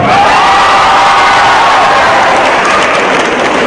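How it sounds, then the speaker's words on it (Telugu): An audience claps and cheers loudly at the mention of Devi Sri Prasad, a dense, continuous wash of applause heard close up. "దేవిశ్రీ ప్రసాద్ పేరు చెప్పగానే అందరూ చప్పట్లు కొట్టారు"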